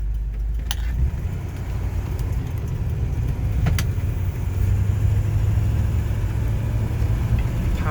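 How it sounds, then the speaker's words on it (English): A 1953 Buick Roadmaster Woody's nailhead V8 runs on a test drive, a steady low engine rumble that swells as the car pulls away, loud and continuous with no talking. "That nail head's a torque factory, and boy, this car really steps off the line nicely. It's got a nice V8 sound"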